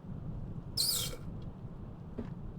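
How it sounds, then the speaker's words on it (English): A straw squeaks in a nearly empty beverage, giving one short, shrill squeal and then a fainter chirp a moment later over a low background hum. "That was the sound of my straw squeaking."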